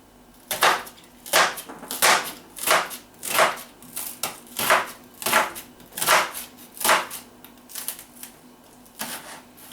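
A knife chops onion finely on a board in a run of about a dozen crisp, evenly spaced cuts, close and clear with no talk.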